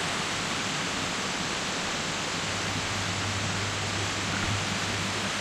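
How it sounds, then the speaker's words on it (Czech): A waterfall in the Moc Chau amusement park in Vietnam roars as a steady, dense wash of falling water, constant and fairly close, with no pauses and no voices. "Vodopád."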